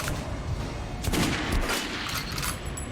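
Gunfire in the video game Metro Redux: a few sharp shots crack over a steady background of game noise, the bursts clustered around the middle.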